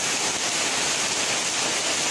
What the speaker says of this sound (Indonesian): hujan pemirsa.